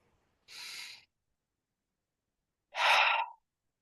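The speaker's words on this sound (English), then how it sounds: "So take a breath with me now." Two deep breaths close to the microphone: a softer inhale, a pause of nearly two seconds, then a louder, fuller breath, each about half a second long in otherwise silent surroundings.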